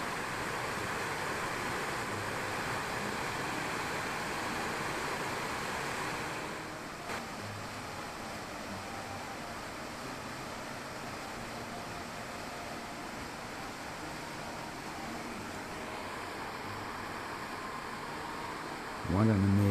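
Water runs steadily over rocks at Fundy Park, a continuous broadband wash of moderate loudness with a faint wind edge, then a brief louder burst at the very end.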